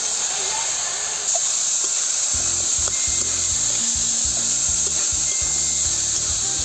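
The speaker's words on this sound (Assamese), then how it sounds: "সানি ৰখা এই চয়াবিনখিনি মই ইয়াত এতিয়া দি আছোঁ মছলাত।" Salted soybean chunks hit hot frying masala in a pan for an Assamese-style soybean curry, with a constant sizzling hiss and rhythmic scraping strokes of a spoon stirring them.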